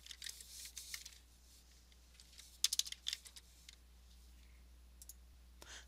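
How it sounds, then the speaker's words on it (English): Someone types on a computer keyboard in quiet surroundings, with irregular bursts of crisp key clicks, a quick flurry in the middle and a single tap near the end, under a low steady hum. "you can do the same thing by simply typing in"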